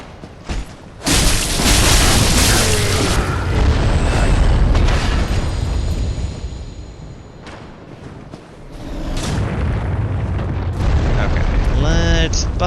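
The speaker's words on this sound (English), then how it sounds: "I forgot that those explode after the fact." Exploding enemies in Dark Souls III set off loud, rumbling blasts, with a sustained booming roar through the first seconds, a brief lull, then another heavy burst of explosive noise near the end.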